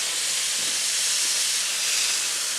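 Tomatoes and their juice tipped into a pan of hot, sizzling guanciale, giving a loud, steady broadband hiss that holds evenly without a break.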